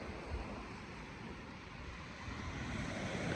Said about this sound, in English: A little bit wind, but pretty good.